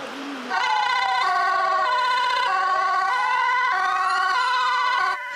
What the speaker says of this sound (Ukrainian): Усе це під супровід сирен та фонтани води з пожежних рукавів.